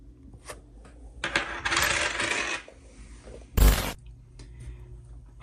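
Silver half dollar coins are handled from a box, with bursts of jingling metal and sliding coins, then a loud sudden clatter as a handful drops, close up and without talk.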